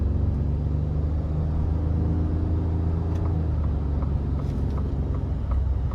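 A 2023 Ford F-150 Lariat PowerBoost hybrid pickup accelerates in sport mode onto an interstate, heard from inside as a steady, loud low rumble of engine and road noise with no talking.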